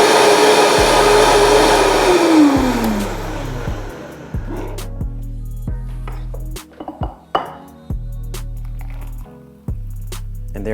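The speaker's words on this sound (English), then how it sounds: "now I'm gonna dump this into my Vitamix" A Vitamix blender whips keto coffee with MCT oil, ghee and collagen, starting as a loud steady whir whose pitch slides down as the mix thickens, then stopping and restarting in several short pulses.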